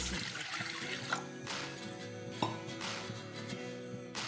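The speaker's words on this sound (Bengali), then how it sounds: "এবার এই প্রেসার কুকারের মধ্যে আমি কিছুটা জল দিয়ে দিচ্ছি।" Water pours and splashes into a metal pressure cooker holding washed mung and pea lentils, a continuous close gurgle with faint clinks of the pot, with no talk.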